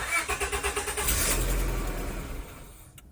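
A used car with a failing charging system cranks in quick rhythmic pulses, catches and runs roughly for a moment, then sags and fades as the engine dies, close by with no talking.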